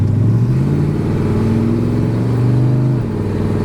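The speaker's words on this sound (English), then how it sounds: "The exhaust has a nice rumble and the transmission has a good firm shift." Steady exhaust rumble and engine drone from a 1986 GMC High Sierra short-bed step-side pickup being driven, loud and close from inside, with the pitch rising and shifting between gears and no talking.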